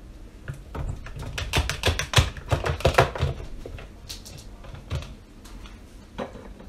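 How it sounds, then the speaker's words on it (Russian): Pear pieces tipped into a Beaba Babycook blender steamer, a quick cluster of hard clattering knocks and taps that thins to a few isolated clicks afterwards. "Высыпаем нашу грушу."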